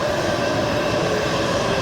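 A train rumbles steadily and close by, its wheels and carriages droning throughout with a faint high squeal on the rails, as it comes in and slows down. No one speaks.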